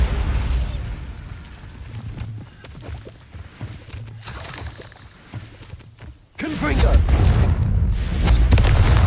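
A Bombarda blasting spell goes off in the Hogwarts Legacy video game, a loud booming explosion that erupts suddenly after a quieter stretch of rumbling and crackle, followed by sustained roaring debris.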